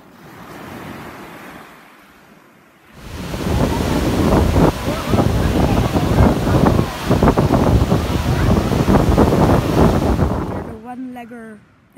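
Ocean waves break on a beach in loud, gusty wind that buffets the microphone, a heavy continuous rush of surf and wind, preceded by a quieter stretch and ending with a voice speaking.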